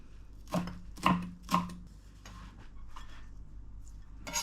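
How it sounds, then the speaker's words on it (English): A knife chopping onion on a board, with three crisp, close chops in quick succession followed by a few softer, scattered cuts. "So I'm gonna chop up the onion first."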